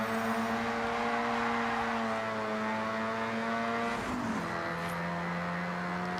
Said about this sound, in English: they've managed to make the RX-7 sound so bad compared to how it actually sounds in real life